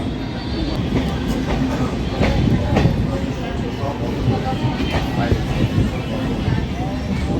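A Kolkata Chakrarail circular suburban train rolls across Howrah Bridge, a continuous rattling rumble with intermittent clacks and metallic squeals from the wheels, loud and close from aboard the carriage.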